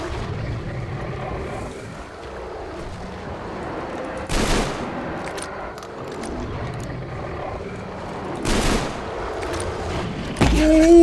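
Shotgun blasts in the video game Metro Exodus: two heavy booming shots spaced a few seconds apart over a continuous rumbling game ambience.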